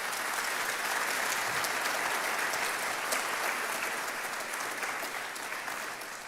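Congregation in a church breaking into loud, sustained applause that fills the space evenly for several seconds, a dense steady clatter of many hands with a faint crowd murmur underneath.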